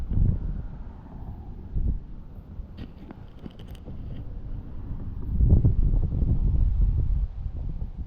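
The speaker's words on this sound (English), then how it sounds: "windy day out today" Gusty wind by a creek during magnet fishing buffets the microphone with low rumbling bursts that swell and ease, strongest near the start and again in the last few seconds.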